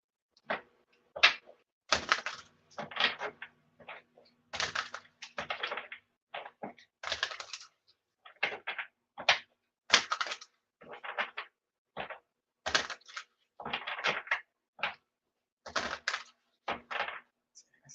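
Playing cards being shuffled by hand during a live tarot-style reading, heard as a series of quick, crisp riffles and flicks in short irregular bursts, fairly quiet and close with no talking over them.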